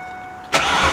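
A car engine with a newly installed muffler cranks and catches after a faint electrical hum, settling into a steady, moderately loud idle right up close.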